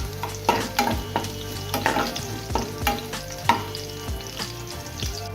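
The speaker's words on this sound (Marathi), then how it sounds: "लसूण इथं भाजून घेतो." Garlic roasting in a hot pan for a Goan sardine curry, with a steady sizzle under repeated scraping and stirring strokes from a utensil, close and moderately loud with no talking.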